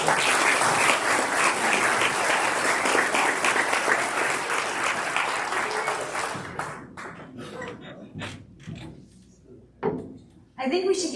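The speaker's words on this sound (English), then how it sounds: "I think we should give Nick another round of applause" Audience at a community coffee gathering applauds Nick with dense, loud clapping that fades after about six seconds into scattered claps and room noises.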